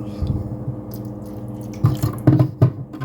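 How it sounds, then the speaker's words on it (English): Water is poured into a Nespresso coffee machine, a soft splashing and trickling that grows louder in short bursts toward the end. "I'm just gonna dump a little bit of water in there."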